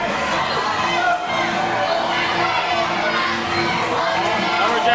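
A Liverpool crowd at a UCW professional wrestling show reacts to Lumberjack Johnson's entrance with a loud, dense roar of shouting and yelling that runs steadily throughout.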